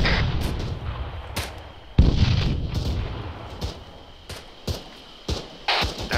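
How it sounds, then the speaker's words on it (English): Gunfire cracks over a military field training exercise, with several sharp reports and a heavy boom near two seconds against steady outdoor rumble and noise, loud and close, no talk. "I do have confirmation of bullets firing over us"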